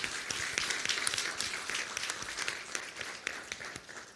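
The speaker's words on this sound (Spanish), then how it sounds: "Vamos a darle un aplauso a la doctora Escalante y las escuchamos." An audience at a panel discussion applauds a doctor, a lighter, moderately distant patter of clapping with some individual claps standing out, lasting several seconds.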